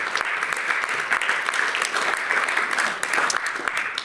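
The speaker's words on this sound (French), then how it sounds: "Vous pouvez l'applaudir, Dr Bourredji." An audience claps for Dr Bourredji at a French talk on AI, music and health therapy. Steady, lively applause with many overlapping hand claps stays strong throughout before dipping briefly near the end.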